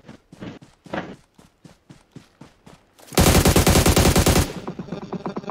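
Bursts of automatic gunfire in a battle royale video game, preceded by a run of rapid evenly spaced single shots, then a dense loud sustained volley and trailing softer shots.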